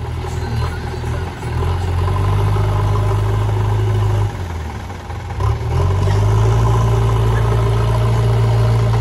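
A Mahindra tractor engine runs loud and close while pulling a loaded trolley, a steady low diesel drone with harmonic hum that dips briefly twice before settling back.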